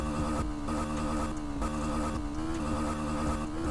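Honda Sahara 300 engine in the Moto Wheelie 3D game bouncing off its rev limiter, a loud sustained buzzing drone broken by rapid repeated cuts and stutters, rising slightly in pitch, with no talking.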